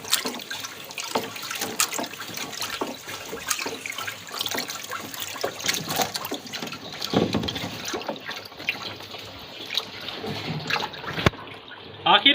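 Water sloshes and splashes in a drum as waste decomposer gel is mixed in, a continuous close liquid churning with scattered knocks and a sharp thump near the end.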